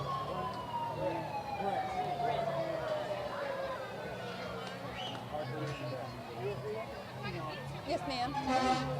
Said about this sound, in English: I hear more sirens coming up our way.